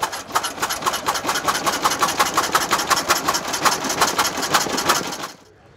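A 1904 Simplex car engine runs steadily at a concours event, its rapid regular mechanical firing pulses loud and close throughout, then cutting off abruptly near the end.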